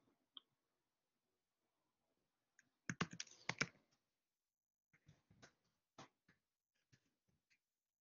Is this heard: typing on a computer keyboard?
yes